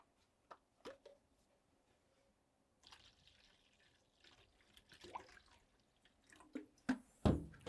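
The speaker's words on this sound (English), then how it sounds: "And then we're gonna dilute the rest with water." Water poured into a mixture of vinegar and dish soap for mold cleaning, giving faint drips and a brief trickle, then a louder splashing pour near the end, close by with no talk.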